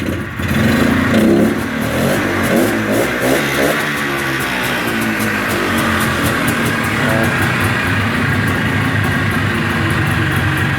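A Polaris Trailblazer 250cc quad in cold weather starts and revs loudly up close, its engine note rising and falling in throttle blips before settling into a steady, rough running drone for the rest of the stretch.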